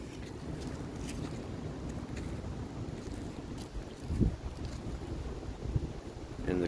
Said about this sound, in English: We do have a slight breeze going on.